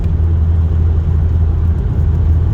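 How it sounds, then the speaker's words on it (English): A VW Golf GTI MkV rebuilt with racing internals, a new intake and a turbo pipe, driven at night, gives a loud, steady low engine drone and rumble that holds without a break. "The sights and sound of the GTI MkV come alive again with new racing internals, a new intake, a turbocharged pipe"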